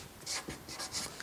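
A pen scratches out numbers on paper in a few short, quiet strokes, close and faint, with no talking.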